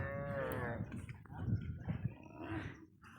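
A cow lets out a deep, drawn-out moo nearby at a riverbank cattle market, followed by fainter lowing and murmurs from many other cattle in the background.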